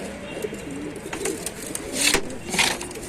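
Pigeons cooing in a loft, soft repeated low coos close by with some wing flutters and rustling over a steady background hum.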